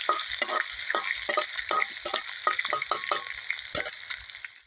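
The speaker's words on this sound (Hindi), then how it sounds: "ये अदरक और लहसुन को भूनते हुए मुझे 1 मिनट हो गई है।" Crushed ginger and garlic sizzling and frying in a pan for samosa filling, with steady hissing and repeated scraping stirs at close range; no voices.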